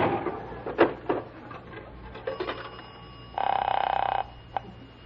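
A telephone rings once in a short buzzing burst, preceded by a few scattered clicks and knocks, then a single click after it.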